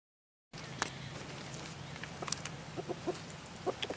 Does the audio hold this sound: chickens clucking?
yes